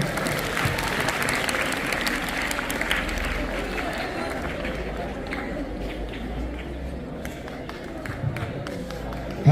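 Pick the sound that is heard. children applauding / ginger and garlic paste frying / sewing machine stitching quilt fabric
children applauding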